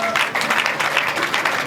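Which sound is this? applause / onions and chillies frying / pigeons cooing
applause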